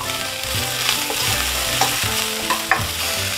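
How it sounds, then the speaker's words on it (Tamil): Turkey berries and onions sauté loudly in a pan for vathal kuzhambu, a constant sizzle broken by repeated rhythmic spatula scrapes, with no voices. "இப்போ நம்ம வந்து தக்காளி சேர்க்க போகிறதில்ல சுண்டைக்காய்களை சேர்த்து வதக்க போகிறோம்"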